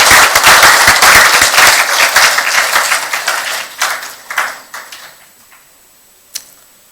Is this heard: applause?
yes